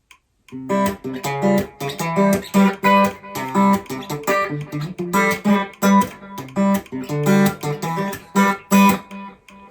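Fast, loosely timed guitar chords strummed in a quick, uneven rhythm, close and loud, with no voices.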